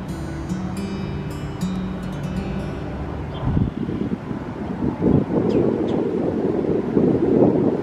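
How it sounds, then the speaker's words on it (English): Wind gusting across a park pond on a hike, rumbling steadily and loudly against the microphone, growing stronger and more turbulent in the second half, with no talk. "Very windy today."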